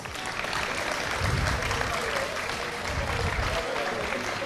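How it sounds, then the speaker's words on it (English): Sustained applause from a crowd at an indoor kart championship awards ceremony, steady and fairly loud across the whole moment, with a little background voice mixed in. "One more time, big applause for these ladies."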